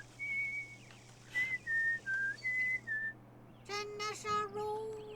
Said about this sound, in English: See, you hear the bird singing? Wait, listen to him sing.